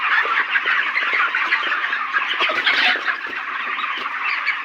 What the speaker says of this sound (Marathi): ते पक्षी उठलाय बघा पाणी प्यायला